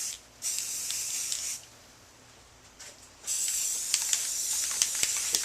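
A spray can mists orange paint onto metal meat hooks for a rusted look, giving close hissing bursts: one long spray, a pause with a brief puff, then a sustained spray with small sputters.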